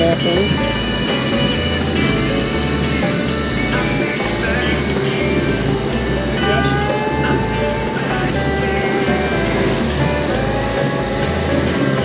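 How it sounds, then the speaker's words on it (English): Sailboat motoring straight upwind under engine power with sails partly out, a steady loud engine drone with rhythmic low pulsing and wind noise throughout, no pauses. "We're going straight upwind, so we just have the sails out for a little bit of balance, but we're motoring."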